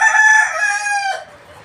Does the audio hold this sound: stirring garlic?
no